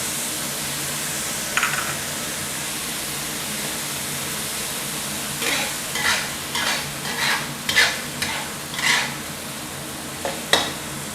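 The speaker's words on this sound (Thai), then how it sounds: "เดี๋ยวเราผัดจนหมูสับเริ่มสุกสักครู่หนึ่งก่อนนะครับค่อยใส่กุ้งนะครับ" Minced pork and fresh shrimp stir-fry in a hot pan for a long-eggplant dish, a steady close sizzle with a series of scraping spatula strokes toward the end, no voices.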